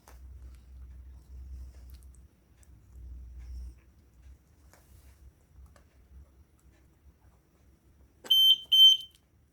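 A 9-volt battery powered Arduino vibration-sensor alarm sounds two short, shrill electronic beeps near the end, after several seconds of quiet low handling rumble and faint ticks.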